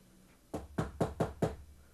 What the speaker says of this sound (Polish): Słyszę pukanie.